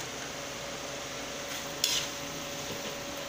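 Utensil scraping and clinking softly in a pan of rabbit adobo just after soy sauce goes in, quiet steady stirring over a faint hum with one brief sharper clink.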